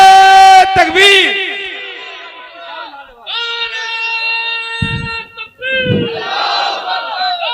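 A large crowd at a religious sermon gathering roars back in unison in answer to a Takbir chant, with long, loud, sustained shouting voices that swell in several waves close to the listener.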